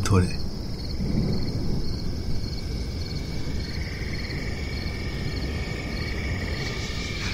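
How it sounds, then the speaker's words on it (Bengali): Crickets in a roadside jungle at night give a continuous, steady high chirping drone that runs unbroken through the whole stretch, with a low rumbling background underneath and a single brief spoken word at the start. "রাস্তার পাশ দিয়ে জঙ্গল থেকে ঝিঝি পোকার এক টানা ডাক"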